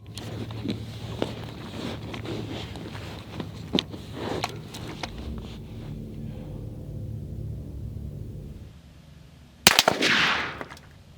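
Suppressed AR-10 rifle in 6.5 Creedmoor firing Hornady TAP ammunition: a few muffled shots spread through steady outdoor noise, then one louder crack near the end.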